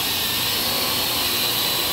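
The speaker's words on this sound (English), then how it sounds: "I'm rocking the drone." A Parrot AR Drone quadcopter flies nearby with a steady, loud, high-pitched whine from its spinning rotors, continuous and unbroken throughout.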